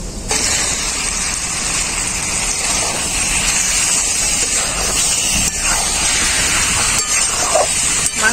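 Marinated chicken hits cooked-down spices in a hot pan and sizzles loudly, a continuous close hissing spatter that holds steady throughout.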